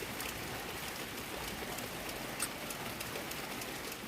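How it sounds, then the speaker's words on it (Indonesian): Light drizzle falls in a village as a steady, soft hiss of fine raindrops with faint scattered patters, continuous and alone with no voices. "hujan rintik-rintik"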